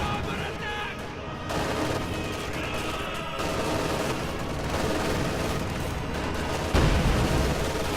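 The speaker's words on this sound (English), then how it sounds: "A lot of AT grenades bouncing on the Panther frontal armor" Anti-tank grenades bursting and bouncing off a Panther tank's frontal armor in Company of Heroes 2, a battle din of repeated explosions and gunfire with sharp bangs, under a commentator talking.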